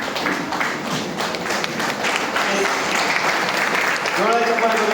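Sustained applause from an audience filling a hall, a dense wash of many hands clapping at steady loudness, with a voice speaking briefly near the end.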